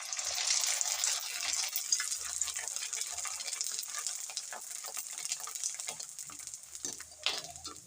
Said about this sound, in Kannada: ನೋಡಿರಿ ಈಗ ಎಣ್ಣೆ ಕಾದೈತಿ, ಹಾಕ್ಯಂತೀನಿ.